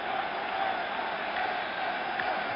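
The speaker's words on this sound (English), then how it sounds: "Crowd roaring his name, roaring for the Yankees." A large baseball stadium crowd roars for the Yankees during the 1977 World Series, a steady distant wash of cheering, muffled and broadcast-quality, with no distinct voices.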